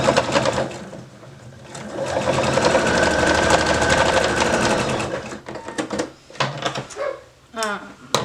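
Sewing machine stitching denim for a small purse, a steady rapid mechanical whir for a few seconds, then stopping and starting in short bursts, with a person talking nearby.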